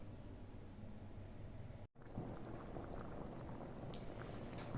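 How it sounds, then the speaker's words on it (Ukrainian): A pan of thick peppered sauce for onion-wrapped cabbage rolls bubbles and simmers steadily at close range, with a brief cut to silence partway through, no voices. "Бачите, як гарно кипить."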